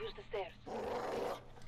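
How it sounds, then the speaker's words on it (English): In the Call of Duty Modern Warfare campaign, dogs give a couple of short, sharp barks and then a sustained snarling growl, close and fairly loud. "Okay, these dogs are so scary."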